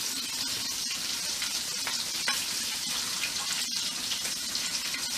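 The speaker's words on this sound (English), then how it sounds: "you want to rinse off your tomatoes" Tomatoes are rinsed under a running kitchen tap, giving a steady, bright hiss of flowing water with small splashing irregularities and no talking.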